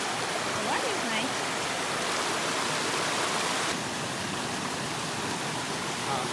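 Water from a stream flowing steadily on a hiking trail, a continuous broadband rush that stays even and close throughout, with no talk over it.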